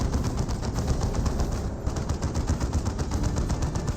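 Rapid bursts of gunfire and weapon fire in the Warhammer 40,000 strategy game Dawn of War 2 Elite Mod, dense and continuous over a steady battle din with no talking.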